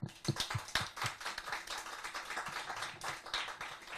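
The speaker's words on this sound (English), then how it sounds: "we need to applaud her for that" Scattered clapping from a small group after praise for the author of a Lampy the Lighthouse colouring book, with individual sharp claps standing out in an uneven, moderately loud patter.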